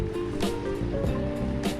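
Ocean surf washing in at El Nido beach in Palawan, a steady close rush of broken water with a few louder swells breaking over a constant hiss.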